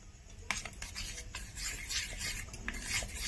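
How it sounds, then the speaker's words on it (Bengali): A spoon scrapes and clinks against a bowl while cornflour is stirred into a little milk, giving a run of soft rasping strokes with sharper taps, close and fairly quiet, with no voices. "ভালো করে মিক্স করে নেব।"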